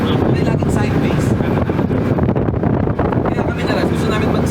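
Steady, heavy wind rushes and buffets across the microphone at an outdoor drift track, a continuous loud roar with no distinct engine notes standing out.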